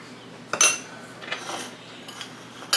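A spoon knocks and scrapes against a bowl while a heaping tablespoon of mayonnaise is worked off it for chicken salad, giving a few short, close clinks and scrapes with quiet pauses between them.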